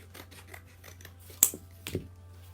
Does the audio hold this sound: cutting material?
yes